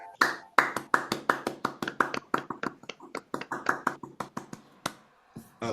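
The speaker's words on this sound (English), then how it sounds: "clap your hands loudly" A room of people clapping hands loudly on request, about twenty separate sharp claps in a steady uneven rhythm, gradually thinning out and stopping near the end.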